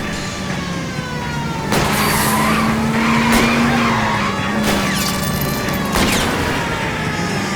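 Car tires skid and squeal during a car chase in the L.A. Noire video game, with a loud continuous engine roar and several sharp impacts or shots punctuating the screeching.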